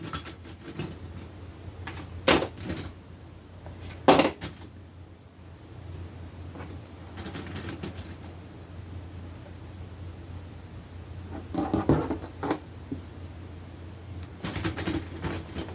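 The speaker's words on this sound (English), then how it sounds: "I'm going to clip it all." Fabric being clipped together during a T-shirt hoodie sewing project, with scattered sharp plastic clicks and snaps in small bursts between soft rustling and handling noise.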